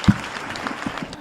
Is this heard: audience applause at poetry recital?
yes